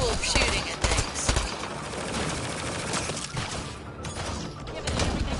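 Dense gunfire and crashing impacts from the shooting video game Mass Effect Andromeda, a continuous loud barrage of shots with thuds and bursts running throughout.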